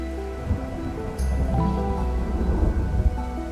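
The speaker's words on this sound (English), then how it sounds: "And we've got thunder." Thunder rumbles low and steady in a platforming video game, with a continuous rain-like wash and a sharp crack partway through, fairly loud and without talk.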